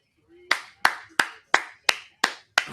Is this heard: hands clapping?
yes